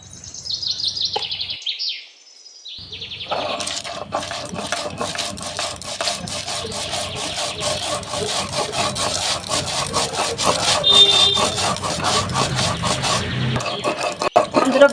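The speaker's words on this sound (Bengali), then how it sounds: "যে ধনে জিরে ভাজা বেটে নেব" Roasted coriander and cumin seeds are ground on a grinding stone, a steady rhythmic rasping scrape of stone on stone that builds and continues almost without a break, with a brief pause near the start and faint birdsong behind.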